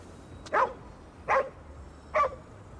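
A dog barks three times in Ghostwire Tokyo, single clear barks spaced evenly about a second apart, close and moderately loud over a quiet background.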